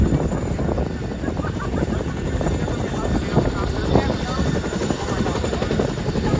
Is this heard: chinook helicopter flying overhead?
yes